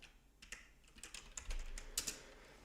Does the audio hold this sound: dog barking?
no